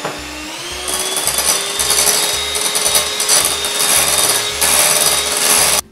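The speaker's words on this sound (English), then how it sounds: "stop your mixer or your beaters and scrape down the sides of your bowl" An electric mixer beats buttercream frosting made from butter and sweetened condensed milk, giving a steady, close motor whine that rises slightly after a softer start, with a faint rhythmic knocking of beaters against the bowl underneath.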